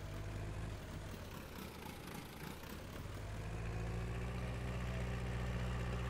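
A tractor engine idles in Farming Simulator 19, a low steady mechanical drone that grows slightly fuller and louder partway through, with no voices.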